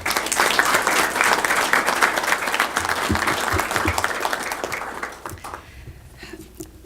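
Loud, sustained applause from a press conference audience welcoming a speaker, a dense wash of clapping that holds steady for several seconds, then thins and fades near the end.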